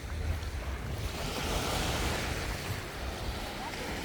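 Strong sea waves rolling onto a sandy beach on Koh Lanta, a loud continuous roar of surf with wind buffeting the microphone throughout.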